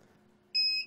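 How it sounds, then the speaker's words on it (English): An MKS TFT touch screen gives one loud, steady electronic beep as it boots up. It sounds partway through, lasts about a third of a second, and follows a quiet low hum. "it does have a very annoying beep on boot up"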